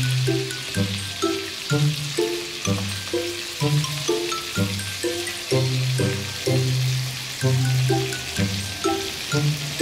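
Food frying in a pan, a continuous close sizzle with a bubbling, rhythmic popping pattern repeating steadily throughout, no voices over it.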